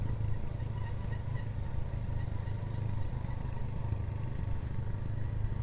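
A Honda Wave RSX motorcycle climbing a steep mountain road gives a steady, close, low engine drone with a rough rumbling texture, continuous throughout with no talking.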